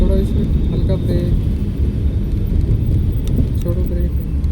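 Car driven by a first-day learner driver easing off the brake, a constant low engine and road rumble running beneath an instructor's ongoing speech.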